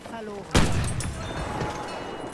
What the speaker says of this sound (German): Da werfen wir eine Granate rein, denn da sind unfassbar viele drin.